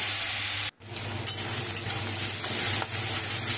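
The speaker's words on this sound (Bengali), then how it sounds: "তারপরে পেঁয়াজটা বেশ ভাজা ভাজা করে নিতে হবে।" Grated onion fries in hot oil for a katla fish head chorchori, a continuous close sizzle with stirring scrapes and one brief moment of quiet near the start.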